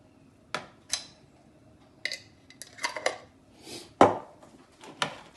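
A spoon knocks and scrapes against a bowl while a honey, soy and beef marinade is mixed, with several separate clinks and taps spaced irregularly, close and fairly crisp with no talking.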